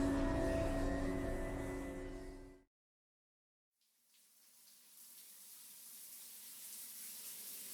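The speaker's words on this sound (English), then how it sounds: "a pleasant torrent of hot water sprays my body" Hot shower water sprays steadily in a tiled shower in a video game, cutting out abruptly for about a second before resuming as a softer, hissing spray.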